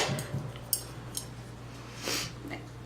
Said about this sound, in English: And then I'm going to add some of my sofrito that I took out the freezer last night.